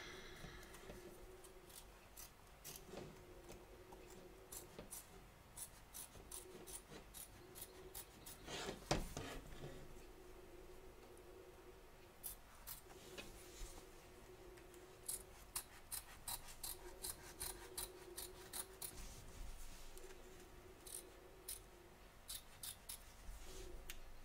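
Scissors snip embroidery free from the back of a hoop in a long series of faint, close clicks, with soft rubbing and handling of the fabric between the cuts.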